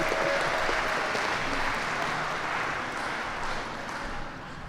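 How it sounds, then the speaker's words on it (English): An audience at a youth budget engagement event applauds the budget director, Annette Guzman: steady, dense clapping from a full room that holds for several seconds and eases slightly near the end. "Continue to clap for our budget director"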